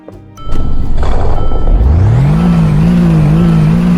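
A 2014 Mercedes Black Series sports car engine in a video game starts and revs up, then holds a loud, steady roar with a rising and settling pitch, close and alone.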